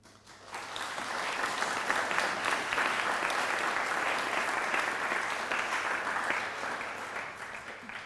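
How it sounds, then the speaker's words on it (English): A graduation audience at a college diploma ceremony breaks into applause, swelling quickly into a dense, even roar of clapping that holds steady for several seconds. "it's right and proper that we should recognise your achievement by applauding"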